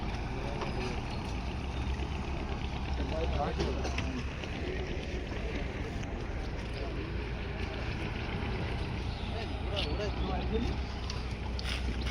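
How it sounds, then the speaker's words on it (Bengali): A river ferry comes in to its landing, its low engine rumble droning steadily through wind buffeting the microphone, continuous and fairly close, with no clear talk. "বন্ধুরা দেখতে আমাদের খেয়া চলে এসছে"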